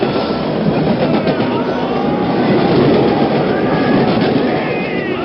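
A special train runs on rails from Amritsar toward Mughalpura as a sound effect in a dramatized story: loud, steady rumbling with rhythmic clickety-clack of wheels over rail joints, continuous throughout and without speech.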